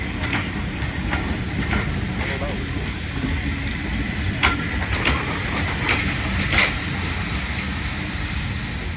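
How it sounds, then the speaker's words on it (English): A diesel locomotive arriving at Swanage Steam Railway, a steady low rumble and hiss of the engine with faint clanks and squeals of rail wheels, continuous and fairly close, with a voice speaking over it. "we are lucky enough to see the diesel locomotive coming in"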